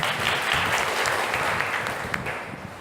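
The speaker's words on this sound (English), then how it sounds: "So a round of applause for you." Audience clapping for students at a talk in Nha Trang, a dense steady applause from a roomful of people, fairly close and sustained throughout.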